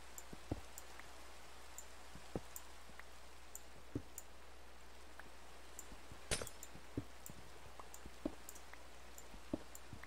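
Rain in the video game Minecraft, a soft steady hiss of light rainfall with scattered sharp drip-like ticks and one louder crack near the middle.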